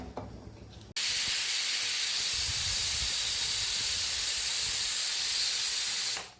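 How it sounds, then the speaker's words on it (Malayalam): A pressure cooker whistle suddenly bursts into a loud, sustained hiss of escaping steam, holding steady for about five seconds before tapering off, heard close up after a quiet moment of faint kitchen noise. "രണ്ട് വിസിലടിച്ച് ഇനി നമുക്ക് ഓഫ് ചെയ്ത്"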